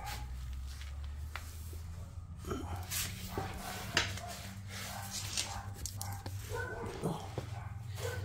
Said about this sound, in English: If you guys hear the dogs, yeah, they're going at it